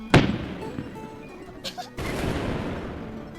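Fireworks burst in a sharp loud bang followed by crackling pops and a second rumbling wave of explosions, heard outdoors at a moderate distance.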